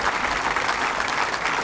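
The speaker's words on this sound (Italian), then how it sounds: "Gli facciamo un applauso" Audience applause for children who sang the Italian national anthem at a hospital construction-site opening in Olbia, a steady dense clapping that fills the whole moment without voices.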